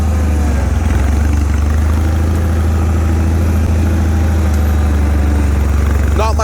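A Bolens HT-23 garden tractor with a 23 HP Kohler 945cc engine runs close by at a steady idle, its low droning hum constant and loud throughout.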